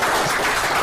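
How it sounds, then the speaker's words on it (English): Audience at a Racing for Recovery support group meeting clapping together in a steady, dense burst of applause, close and fairly loud with no talking. "Give our man a round of applause."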